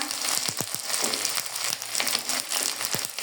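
Onions frying with garlic and ginger paste for Bengali chicken kosha, a steady close sizzle broken by several sharp clinks of a spoon scraping the pan, with no talking.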